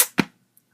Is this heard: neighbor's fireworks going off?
yes